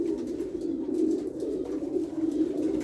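Steady, soft cooing of pigeons, a continuous low burbling chorus with several birds overlapping, fairly close and with no talking.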